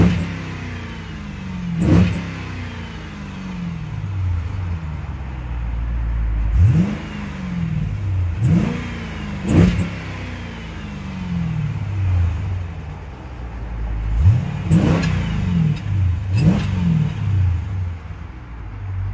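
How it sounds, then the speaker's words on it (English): Deep burbling idle from a 2014 Jeep Grand Cherokee SRT fitted with a Borla exhaust, broken by a series of quick, loud revs, some single and some in close pairs, each snapping up and dropping back. "Very nice sounding with that borla exhaust."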